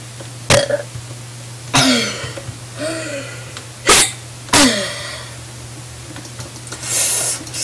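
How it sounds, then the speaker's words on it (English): A young person deliberately burping several times after hiccups, loud separate bursts spaced about a second apart, close up, with quiet pauses between them. "Wait, let me try burp."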